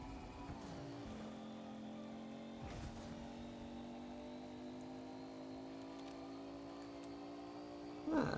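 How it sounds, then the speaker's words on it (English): A car engine in a video game being made in Unreal Engine: a steady, quiet, droning engine hum with a constant pitch that dips once early on, running throughout with a brief louder burst at the end. "It was the residual sound of our car."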